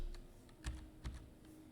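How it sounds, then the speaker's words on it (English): Keystrokes on a computer keyboard, a few quiet clicks with two sharper taps standing out, close and alone over a low steady hum. "I'm going to type this in, and it's basically shift 7"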